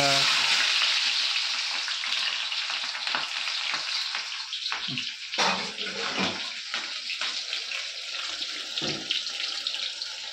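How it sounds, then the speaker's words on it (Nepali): Potatoes and onions frying in a wok in a village kitchen, a loud, dense sizzle that is strongest at first and then settles, with scraping stirs at intervals and no talk. "यहाँ आलु प्याज अब कराईमा हाल्दैछ"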